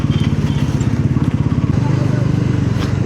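Royal Enfield Bullet motorcycle being ridden, its engine thumping in a steady low pulse with rattling, likely from a removed chain-cover nut and bolt, heard close and continuous.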